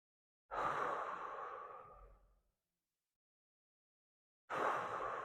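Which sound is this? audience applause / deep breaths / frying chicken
deep breaths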